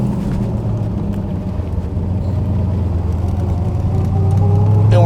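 A 1969 Chevrolet Corvette L88 engine rumbles steadily as the car pulls out of a parking lot in Clifton Park, New York, a deep continuous low drone that swells louder near the end.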